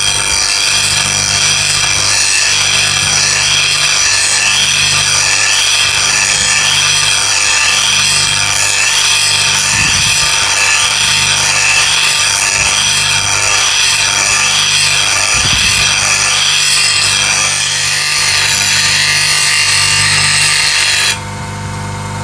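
Carving tool being sharpened on an 80 grit CBN grinding wheel, a loud, steady, continuous grinding hum with a high rasping hiss, heard alone with no talk, before the sound drops off abruptly near the end.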